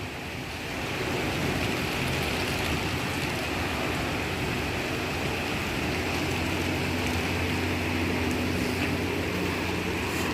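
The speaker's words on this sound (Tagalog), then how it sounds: "Ang lakas ng ulan." Heavy rain pouring steadily as a constant dense hiss with low rumble, unbroken and fairly loud throughout, with no voices.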